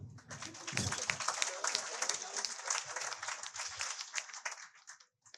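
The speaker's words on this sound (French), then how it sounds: "Vous pouvez applaudir." An audience in a grand hall claps at a ceremony signing a convention between Télé École and the national education ministry, a busy rattle of many hands that swells, holds, then tapers off near the end.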